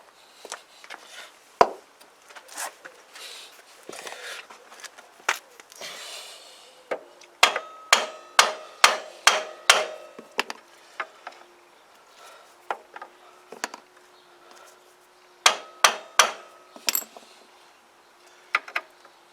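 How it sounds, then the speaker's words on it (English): A rubber hammer taps repeatedly on the back end of a Yamaha YBR 125 motorcycle during reassembly, sharp knocks coming singly and in quick bursts, close and fairly loud, with quiet pauses between. "I'll get me out of rubber hammer again."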